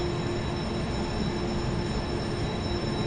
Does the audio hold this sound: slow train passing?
yes